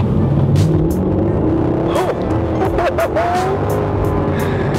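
Mercedes-Benz C63 AMG Coupe driven hard, its engine roaring close and loud with rapid revs rising and falling between paddle-shifted gear changes and sharp crackles, while someone talks over it.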